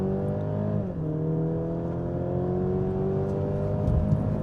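A Mercedes GLC 300 with its boost turned up accelerates at full throttle, its engine drone climbing steadily in pitch with a brief dip midway as it keeps pulling.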